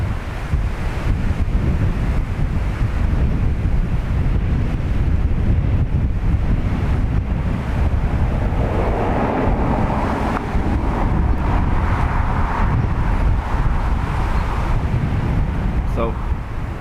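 Wind gusting across the microphone outdoors at Dublin Airport, a continuous heavy low buffeting rumble that stays strong throughout with no break.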